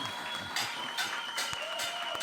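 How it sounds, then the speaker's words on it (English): Audience applause after a music presentation, a fairly faint, steady patter of many hands clapping across the whole short stretch, with brief louder claps scattered through it. "let's give another round of applause"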